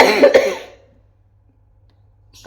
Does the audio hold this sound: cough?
yes